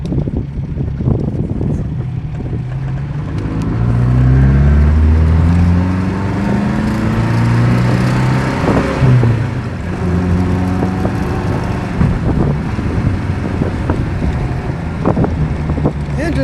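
An MGB sports car engine while driving: a steady low drone with rising and falling engine tones and constant wind noise across the whole stretch, the engine swelling louder midway.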